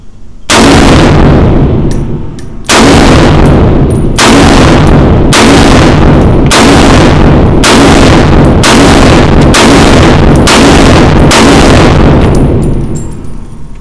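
About nine loud, evenly spaced shots boom from a POF-USA Rogue .308 pistol with a 12.5-inch barrel, each blast followed by a long ringing decay outdoors, with no speech between them.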